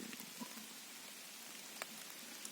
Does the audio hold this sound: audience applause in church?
no